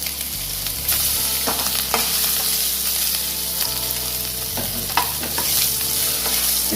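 Paneer cubes frying in a pan over lowered flame, a loud steady sizzle punctuated by scraping stirs and occasional clacks of a utensil against the pan, with no speech.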